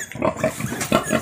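Sows in a pig barn grunting in a steady rhythm of short, close, fairly loud grunts, with other pigs stirring faintly behind.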